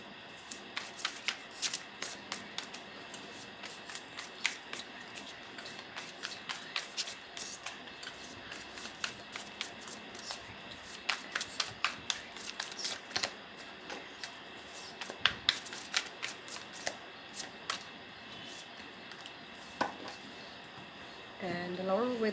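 Tarot cards shuffled by hand, a quiet run of crisp riffling and flicking bursts that repeats steadily for the whole stretch, with a soft rustle at the end.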